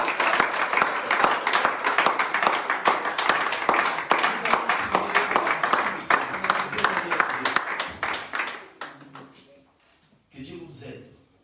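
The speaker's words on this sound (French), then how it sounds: "Est-ce qu'on peut acclamer pour la parole?" Church congregation applauding after a sermon, dense sustained clapping and cheering voices from a crowd that fades out toward the end, followed by brief quieter room noise.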